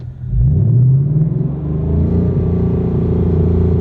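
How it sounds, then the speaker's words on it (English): A Mach 1 Mustang engine revs up loud and close, then holds a steady high RPM with the clutch in and the car in first gear, a sustained droning roar. "you're gonna go and push the clutch in, put it into first, and then you're just gonna give it gas and it should hold the RPM"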